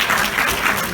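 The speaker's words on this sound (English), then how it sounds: "Big round of applause for them." Crowd applause at a hypnotist's stage show, a brief burst of dense clapping from many audience members, loud and continuous for about a second.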